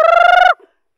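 A single loud, buzzy bird call bursts out for half a second with a fast pulsing rhythm, close and clear, from the chickens and ducks kept on a countryside farm in the Philippines, then cuts off into silence.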